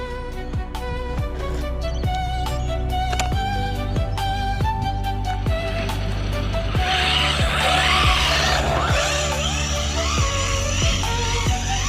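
A JJRC SCT short-course RC car fitted with cheap drift wheels skids and drifts across a basketball court, its electric motor whining and revving with sustained tire squeal and scrubbing, loudest in the second half.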